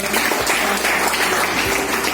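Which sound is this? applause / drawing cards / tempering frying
applause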